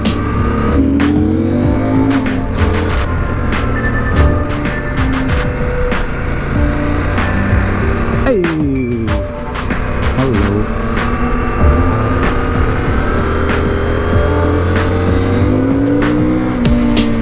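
Motorcycle engines, a CF Moto 800MT and a Yamaha XSR 700, run steadily and loud throughout on a road ride in Greece, with rising and falling revs, gear changes and wind noise, and a voice talking over them at times.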